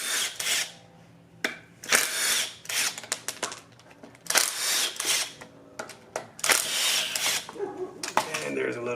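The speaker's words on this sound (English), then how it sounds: "got a 13, and just take these bolts out." Strut bolts come out of a 2007 Audi Q7 with a 13 mm tool, giving repeated bursts of fast ratcheting or powered spinning separated by short pauses. The bursts are loud and close, and there is no talk.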